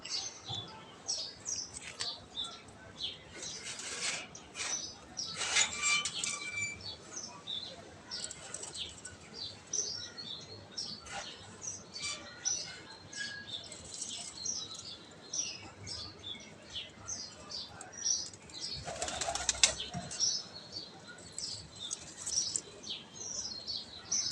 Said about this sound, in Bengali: এগুলো কিন্তু অস্ট্রেলিয়ান ঘুঘু